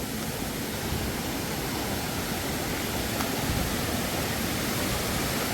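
Waterfall deep in a forest at Amarad, Kozhikode: a steady, loud, unbroken rush of falling water fills the whole stretch, close by, with no voices.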